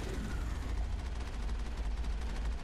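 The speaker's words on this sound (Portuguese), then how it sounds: "Você usa o canhão, usa a metralhadora, espera o canhão carregar" Cannon and machine-gun fire in the Mass Effect video game, a dense, continuous, roaring barrage of rapid shots and booms that stays loud throughout with no pauses.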